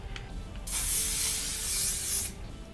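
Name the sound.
hairspray being sprayed on hair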